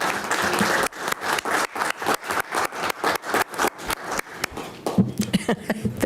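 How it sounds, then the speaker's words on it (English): Applause from the audience at a city commission meeting in Yankton: sustained clapping from a crowd, loud and close, fading into scattered claps and murmuring toward the end. "So want to give her a round of applause and thank her for her leadership."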